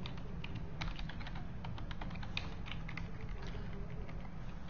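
Someone types steadily on a computer keyboard while writing a basic HTML5 web page. The key clicks come in quick, irregular bursts, quiet and close, with no speech over them.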